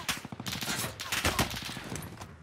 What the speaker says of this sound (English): I'm being shot by multiple